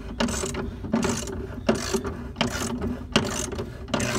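A spring compressor is tightened on an 1985 Mercedes 300D, giving close, loud ratcheting clicks in a regular rhythm of repeated pulls, roughly one stroke every three-quarters of a second.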